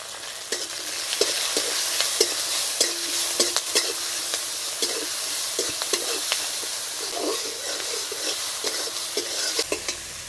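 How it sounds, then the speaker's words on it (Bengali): Chopped garlic, tomato and green chili fry with salt and turmeric in a pan, a loud continuous sizzle broken by repeated scraping stirs from a spatula, close up with no talking. "এবার একটু নুন, একটু হলুদ দিয়ে ভেজে নেব।"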